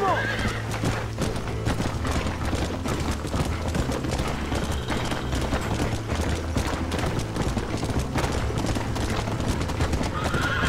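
Horses gallop with steady clip-clopping hooves and loud neighs during a Red Dead Redemption video game chase, layered with dense action noise and shouted voices.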